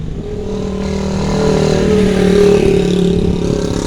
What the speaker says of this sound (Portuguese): Agora que tá vindo uma moto, né?